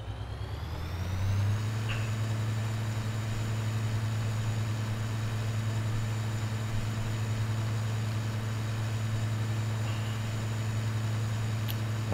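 A truck in the Farming Simulator 13 video game drives with a steady, loud low engine drone. It starts up in the first second and then holds a constant tone throughout, with no talk.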